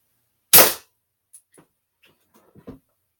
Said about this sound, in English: Second shot, medium small bullet, wood.